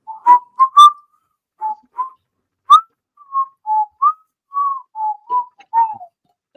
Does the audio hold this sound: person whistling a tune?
yes